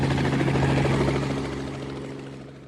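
Steady, loud drone of an airplane's engines as a passenger boards, holding level and then gradually fading away, with no voices.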